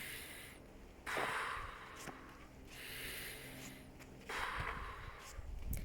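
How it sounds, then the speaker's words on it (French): Slow deep breathing close to the microphone, with two long airy breaths and fainter ones between them, each drawn and released calmly, no talking. "prendre son temps de respirer par des respirations profondes"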